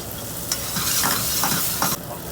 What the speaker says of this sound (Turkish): Domatesi ilave ettikten sonra sotelemeye devam ediyoruz.